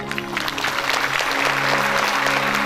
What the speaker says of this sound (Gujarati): સભાએ તાળીઓ વગાડી જય જયકાર કર્યો